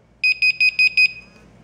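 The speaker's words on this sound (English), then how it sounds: "So you'll notice once I set the alarm," A BIBENE WiFi home security system alarm sounds five quick, loud, evenly spaced electronic beeps up close, followed by a short fading tail.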